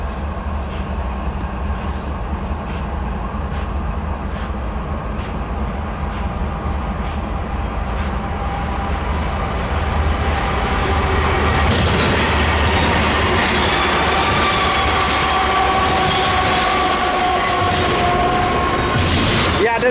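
A long Z freight train rolls into Hobart on Main 3, a steady rumbling roar with rhythmic clickety-clack of wheels that swells louder midway, joined by high wheel squeal, close and continuous.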